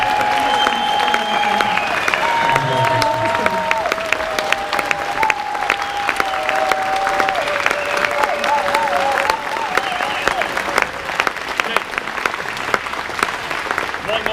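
Concert audience at a symphonic show applauding and cheering, with loud sustained clapping from a large crowd throughout and whistles and shouts rising above it.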